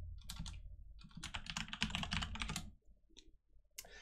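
Rapid, steady keystrokes on a computer keyboard as a search query is typed, a dense run of close clicks that pauses briefly near the end before a few more taps.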